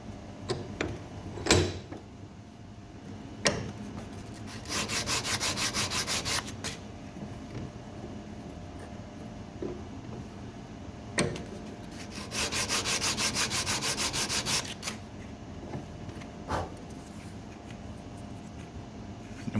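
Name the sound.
sanding oak wood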